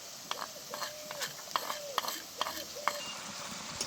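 Ground spice paste stirred into fried onions in a pan for fish kofta curry, soft sizzling under a series of regular scraping strokes of a spoon against the pan, close and fairly quiet.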